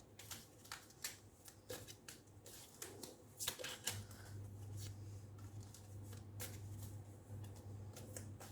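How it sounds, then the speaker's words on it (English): Tea Leaf Tarot cards being shuffled and drawn, giving soft papery flicks and riffles in irregular bursts close by, with a steady low hum underneath and no talking. "Now we're going to take out 2 cards each from the Tea Leaf Tarot"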